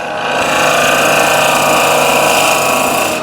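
A wood lathe runs steadily while a skew chisel blank is turned, giving a loud, close, continuous droning whine with a rough grinding edge that holds throughout.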